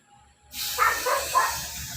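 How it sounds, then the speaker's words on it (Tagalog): Aerosol spray paint hisses steadily from a can onto an artwork, starting abruptly and continuing as a loud, close, sustained spray with slight pulses in intensity. "Pangit ang spray na to ah."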